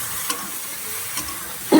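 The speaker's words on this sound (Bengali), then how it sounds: "দ্বিতীয় কিছুক্ষণ নাড়তে হবে, তাহলে সব সবজিতে মশলাটা লেগে যাবে।" A spoon stirs fish, eggplant and potato curry in a hot pan with a soft, continuous sizzle and a few scraping strokes, ending in a brief louder clatter close by.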